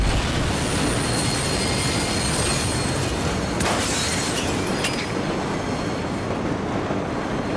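A train in the video game Battlefield 3 gives off a dense, loud, steady rumble and rattle of wheels and metal, with a brief high squeal and a crash partway through; the sound is continuous and close, with no voices.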